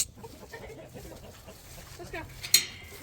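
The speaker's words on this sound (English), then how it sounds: "See, on that poor chicken. That poor rooster." Chickens and a rooster cluck softly nearby amid background noise, with a brief louder squawk near the end.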